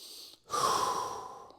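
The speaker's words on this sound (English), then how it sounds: "A couple inhales and exhales here." A single deep breath drawn in and then a long, steady exhale, heard up close during a seated butterfly stretch in a mobility routine, with no talking.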